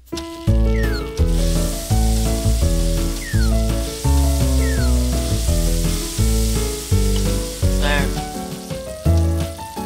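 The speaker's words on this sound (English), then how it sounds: "Saute it." Sizzling from a virtual sauté of a soy sauce and pepper dish in the Cooking Mama game, a steady hiss running beneath loud, bouncy game music with rhythmic chords throughout.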